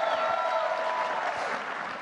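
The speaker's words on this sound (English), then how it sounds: "Can you guys clap loud and let Scott know you're also thankful?" Dense audience applause fills the space loudly and steadily from start to finish, a continuous wash of many hands clapping with a faint crowd murmur beneath.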